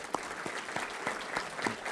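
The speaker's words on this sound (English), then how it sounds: "So if we can please applaud the healthcare workers." Audience applauding healthcare workers at a chamber of commerce event, a thin, fairly quiet patter of scattered claps with distinct individual hand strikes, no talk over it.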